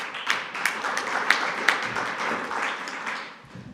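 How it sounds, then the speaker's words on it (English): Brief audience applause for a presenter of the AIthena project at a CCAM enablers session, a moderate patter of clapping from a modest crowd with a few sharper claps standing out, fading toward the end. "So a big applause for her."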